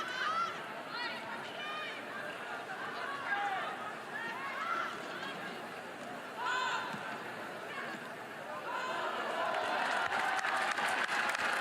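Crowd at a home women's college soccer game between North Carolina and Georgia, a steady outdoor murmur of chatter and cheering with bursts of applause and shouts, fairly distant and continuous.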